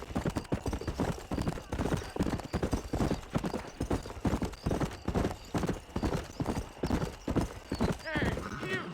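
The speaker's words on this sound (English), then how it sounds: "Look at my horse." Horse hooves clip-clop steadily through the Red Dead Redemption video game, with a whinny near the end, heard beneath continuous talking.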